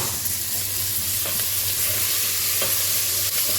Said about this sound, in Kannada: ಈಗ ಇದಕ್ಕೆ ನಾವು ರಫ್ಲಿ ಚಾಪ್ಡ್ ಮೀಡಿಯಮ್ ಸೈಜ್ 2 ಟೊಮೆಟೊನ ಹಾಕ್ಕೊಳ್ತಾ ಇದ್ದೀನಿ.